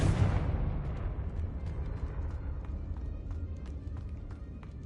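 A blasting spell explosion from the video game Hogwarts Legacy, a heavy booming burst at the start that fades into a long rumbling decay with scattered crackling debris.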